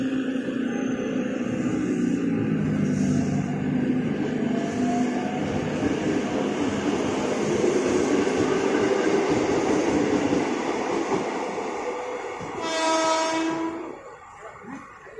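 An Indonesian KRL commuter train of 10 cars rolls into Kalibata station with a loud, steady rumble and screeching wheels, then a brief tonal horn-like burst as it slows and the noise fades.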